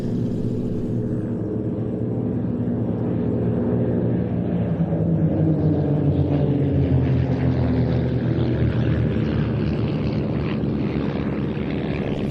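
Aerobatic display aircraft at an airshow performing a crossing break, a sustained loud rumbling engine drone with a slowly shifting pitch as the planes pass, continuous throughout.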